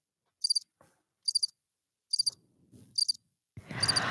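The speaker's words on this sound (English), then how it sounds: "Here, I got crickets." Crickets chirp in crisp, evenly spaced pulsed bursts, four clear chirp groups over near silence, followed by a louder rush of broadband noise at the end.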